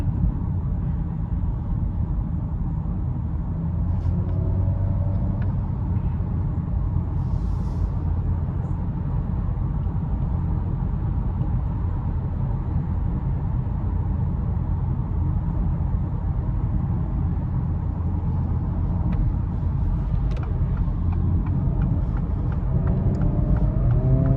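Inside a 2023 Acura Integra with a CVT, the engine and exhaust give a low, steady rumble over the whole stretch, with slight dips where the simulated shifts come through.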